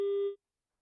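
A single short busy-signal tone from a failed telephone call into a live news broadcast, clear and steady for about a third of a second before cutting off into silence.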